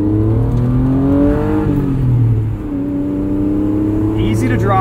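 The engine of a 1992 Acura NSX revs hard inside a tunnel, rising in pitch through the gears with a brief dip at a shift. It is loud and close, with someone speaking over it.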